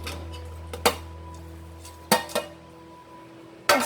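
A spoon scrapes and clinks against a pan while khoa, roasted flour and dry fruits are stirred for mewa pag, with a few sharp metallic knocks spaced irregularly over a low steady hum.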